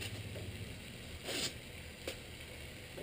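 A sharpened carving knife slices through a sheet of paper, a quiet dry rasping cut with a couple of brief louder swishes, close and alone.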